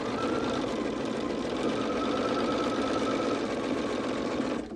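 A sewing machine stitches a quilt seam, a rapid, even mechanical chatter of the needle running close and continuous until it stops abruptly at the end.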